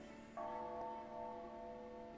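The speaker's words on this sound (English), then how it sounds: "And there's that ominous bell again." An ominous bell in the Persona Q video game rings once, a single sustained toll with a long humming decay, fairly faint and heard alone.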